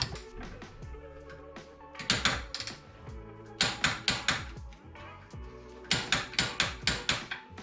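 A ratchet wrench clicks in quick bursts while tightening a ball joint nut on a Mitsubishi Lancer Evolution 8 suspension, sharp metallic ticks in groups of four to six, separated by short pauses, close and fairly quiet.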